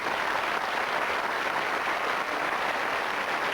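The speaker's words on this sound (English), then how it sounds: "Round of applause" A studio audience applauds both teams at the end of a murder-mystery game show, a dense, even wash of clapping heard alone for a few seconds.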